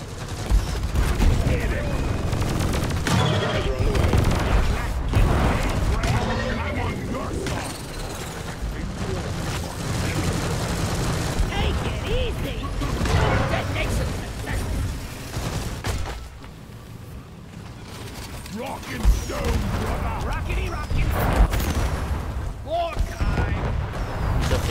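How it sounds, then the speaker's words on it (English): Volatile bullets firing in the Deep Rock Galactic video game amid a chaotic firefight: repeated bursts of gunfire, mechanical clatter and booms over nearly half a minute, with intermittent talking among players over the din. "Almost out of volatile bullets."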